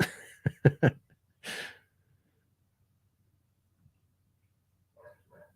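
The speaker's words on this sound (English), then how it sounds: "the neighbor's dog's barking" A neighbor's dog gives a few short, sharp barks close together at the start, then quiet with a couple of faint yips near the end.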